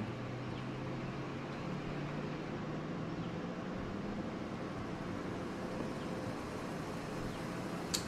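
A Ford Mustang GT engine in the Forza Horizon racing game: a steady, low droning hum that holds for the whole stretch and slowly rises in pitch partway through, with no voices over it.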